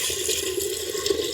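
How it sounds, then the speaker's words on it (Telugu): Water gushes into a cooking pot set on a stove for boiling palm pieces, a steady, close, rushing pour with no voices. "కుండ చెక్కులు బాగా ఉడకాలి కాబట్టి నీళ్ళు పోసుకుందాం"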